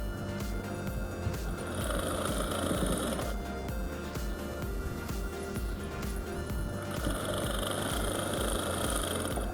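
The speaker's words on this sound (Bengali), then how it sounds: "আর একটু সেলাই বসিয়ে দেবো সাইড দিয়ে" Sewing machine stitching the neck of a frock runs continuously at close range, a steady mechanical whir with busy rapid clatter throughout and no pauses.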